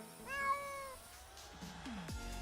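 A cat gives a single clear, drawn-out meow up close, followed by softer background rustling and a faint low thump.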